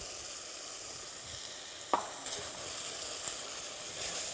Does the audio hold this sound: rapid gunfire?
no